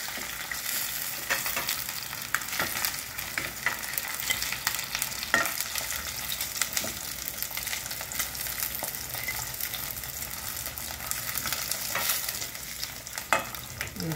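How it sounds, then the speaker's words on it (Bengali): Rohu fish fries in a pan with a steady, dense sizzle and crackle, while scattered clicks and scrapes of stirring run throughout. No voices are heard. "মাছটা ভাজা হয়ে গেছে, এবার তুলে নিচ্ছি।"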